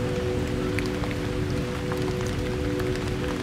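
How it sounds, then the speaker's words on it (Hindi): Steady patter of raindrops striking car windows, a soft continuous drizzle with a low hum underneath. "और गाड़ी के शीशों पे गिरती बूंदें"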